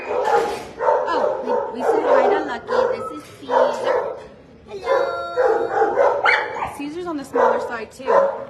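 Dogs at the Dallas Animal Services shelter bark and yip repeatedly, loud and close, in short bursts. Whimpers come between the barks, and people talk throughout.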